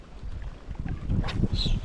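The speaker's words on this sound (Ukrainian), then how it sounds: "Вітер, звичайно, у нас такий піднявся неприємний." Gusty wind buffeting the microphone outdoors by the flooded Dnipro River, a low rumbling roar rising and falling over a couple of seconds.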